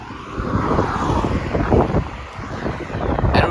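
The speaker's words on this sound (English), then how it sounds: "it's very windy" Strong wind buffets the microphone with heavy, uneven rumbling gusts while cycling on a bikepacking trip in Europe. No one speaks.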